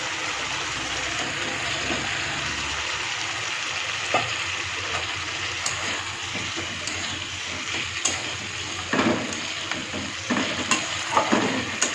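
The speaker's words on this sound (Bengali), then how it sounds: "মশলার গা থেকে দেখো তেলটা ছড়ে আসছে ভেজে রাখা আলুটা আমি দিয়ে দিচ্ছি" Fried potatoes added to spiced oil in a pan for a home-cooked curry, stirred steadily: constant close sizzling and frying with intermittent scraping and stirring knocks, with no talking.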